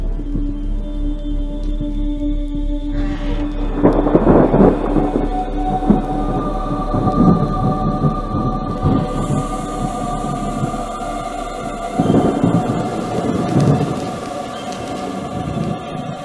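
Deep rolling thunder rumbles through a stormy night in a rain-soaked old house, with several heavy, drawn-out peals swelling and fading over a constant low background roar.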